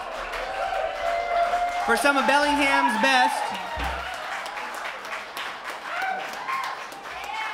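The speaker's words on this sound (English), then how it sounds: "Everybody give a round of applause" A live audience at the Sylvia Center cheers and claps for the big band taking the stage, with whoops and shouts mixed in under a loud announcer voice over a microphone.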